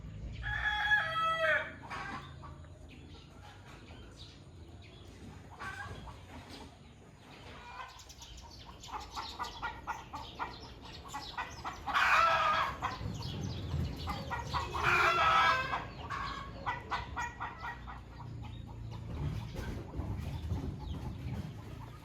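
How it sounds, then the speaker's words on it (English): A rooster crows repeatedly at a moderate distance from a chicken coop roof, long drawn-out calls spaced several seconds apart, with hens clucking faintly among outdoor background noise. "Competing cockerel on the chicken roof."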